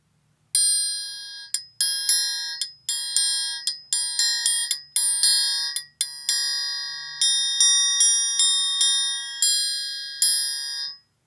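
A triangle struck repeatedly with a medium-sized beater rings out in a quick series of bright, shimmering hits, some irregularly spaced and overlapping, each decaying briefly before the next strike, close and clear with no talking.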